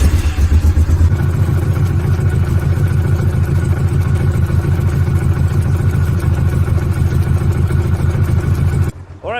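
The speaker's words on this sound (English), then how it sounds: "Firstly I need to fix it, and let's start the engine." A Honda VTX motorcycle with a leaking radiator, just out of winter storage, starts and runs nearby, its engine a loud, steady lumpy idle with clattering mechanical pulses that holds for several seconds before abruptly cutting off.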